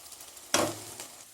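Spice paste for vegetable kurma hits a hot pan with a sudden loud sizzle that fades gradually over a second, close and alone.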